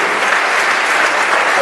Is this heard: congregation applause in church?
yes